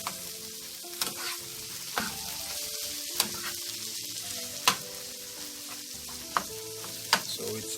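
Corned beef and tomato fry in a pan for a Jamaican breakfast, a continuous sizzle punctuated by sharp utensil scrapes and taps at irregular intervals, close and clear without any talking.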